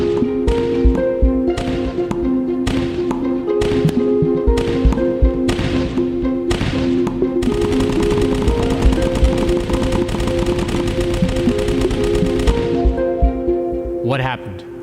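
Tennis balls are fired one after another at a barrier, giving a series of sharp, evenly spaced impacts that build into a rapid, dense barrage over a musical background before it fades out.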